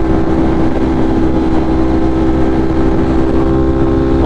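A 208 hp motorcycle on a commute rides with a loud, steady engine drone and constant wind rush, close and unbroken, no talking.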